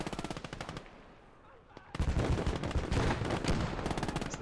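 Machine gun fire rattles in the Gates of Hell war game, rapid bursts of close, loud shots with a brief lull before heavier firing resumes, joined by other gunfire in the battle.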